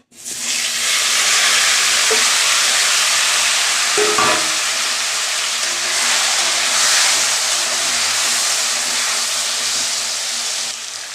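Loud, steady sizzling as potato and eggplant hit hot oil left from frying fish, with cumin added; a continuous frying hiss with a couple of clinks of a spoon stirring, no talking.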